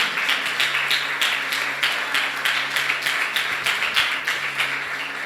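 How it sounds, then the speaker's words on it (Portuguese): Continuous applause fills a church as the congregation claps for the Lord, a thick crowd of hands with sharper individual claps standing out near the front. "Aplaude ao Senhor por essa igreja"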